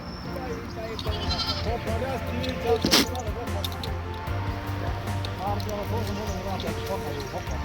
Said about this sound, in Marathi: सगळ्या देशी शेळी आहेत बघू शकता तुम्ही पूर्ण देशी